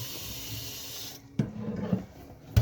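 Hot water runs from a tap into a hookah base, a steady hissing splash for about a second before cutting off, followed by a few soft knocks and clunks of the glass base being handled.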